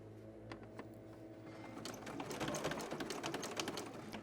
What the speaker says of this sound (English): I'm going to go straight down carefully, making sure to sew on my piece of orange binding fabric.